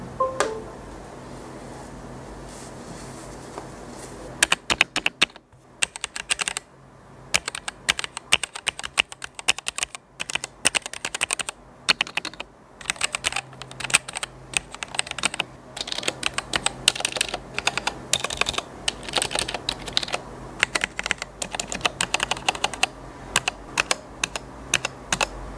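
Rapid, steady clatter of keystrokes on a Womier K66 mechanical keyboard, close and alone, with dense bursts of clicks and brief pauses throughout after a quiet opening.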